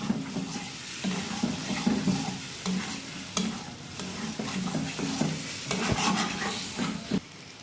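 Eggs cooked down with spices in a pan for egg kosha: repeated scraping stir strokes over a low sizzle, with irregular clatters of the spoon against the pan, fairly quiet and close.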